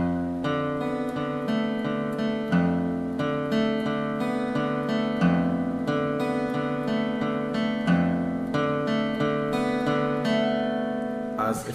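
Acoustic guitar strummed steadily in a repeating chord pattern, alternating between two rhythmic strumming variations, played close and clear with no talking.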